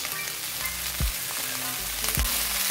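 Teriyaki sauce poured into a pan of stir-fried vegetables for chicken noodles sets off a steady close sizzle and frying hiss, with two sharp bursts of spatter as it hits the hot pan.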